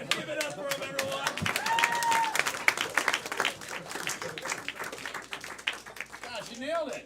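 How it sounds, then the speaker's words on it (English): Audience applause at a live event, claps and crowd noise mixed with overlapping talk and a whistle-like tone, moderately loud and sustained. "Give it up for him, everyone."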